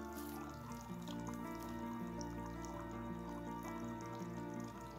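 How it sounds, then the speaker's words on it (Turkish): Natural spring water runs from a stone fountain in the countryside, a quiet steady trickle and splash with faint dripping, heard alone and soft throughout. "Hala şıkır şıkır, sese bakın."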